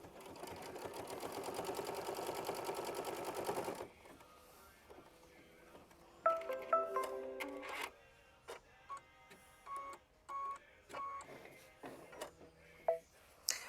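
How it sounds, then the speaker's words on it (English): A sewing machine stitches quilt block pieces, running steadily for about four seconds at a fast even hum, followed by scattered clicks, short whirs and light handling noises. "hit start, and sew machine stitch step 16, which again will just tack down our next piece"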